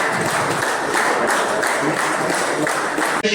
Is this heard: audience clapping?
yes